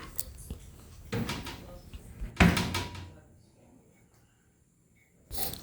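Oven door pushed shut while baking cookies at home, one dull thump with a short rattle, close but soft, amid a few other light knocks and handling noises.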